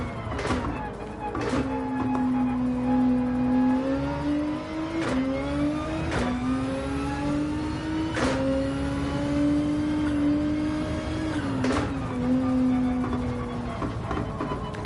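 A race car engine in Gran Turismo 7, driven in PSVR2 virtual reality, revs loudly and climbs through the gears again and again, dropping sharply at each shift and then rising once more, steady and close throughout.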